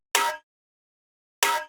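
A third snare sound programmed in FL Studio for a beat: two isolated, metallic, ringing percussive hits about a second and a quarter apart, each bright and clanging with a brief tail, alone in silence.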